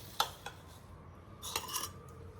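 Spoon clinking against a bowl while stirring custard powder into cold milk: a few sharp metallic taps and scrapes, close and fairly quiet, with no voices.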